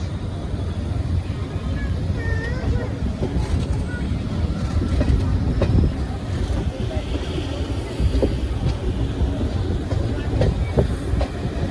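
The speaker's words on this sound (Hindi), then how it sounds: "2 मिनट के होल्ड के बाद डिपार्चर हो गया सोनीपत जंक्शन से" The Fazilka Delhi Intercity Express pulls away from Sonipat Junction with a steady rumble and faint clickety-clack of wheels, wind buffeting the microphone throughout.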